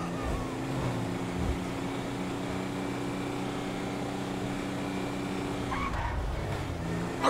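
A car in GTA 5 drives with a steady engine drone and road noise, holding a constant hum with a brief shift near the end and no voices.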